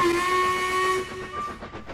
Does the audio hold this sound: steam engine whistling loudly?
yes